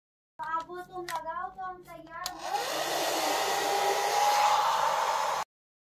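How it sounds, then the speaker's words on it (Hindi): A handheld hair dryer blows steadily for several seconds after a stretch of a voice, its broad rushing airflow loud and close, starting abruptly and holding a constant hum before cutting off. "first I'm gonna dry my hair."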